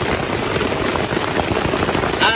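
Rain falls on a tent at a campsite, a steady dense patter close to the microphone with no pauses, loud and continuous throughout.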